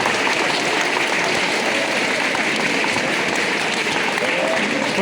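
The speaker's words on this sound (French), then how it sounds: "vous pouvez les applaudir" A large audience at a school or graduation-style ceremony applauds the parents, producing dense, continuous clapping that stays loud and steady throughout.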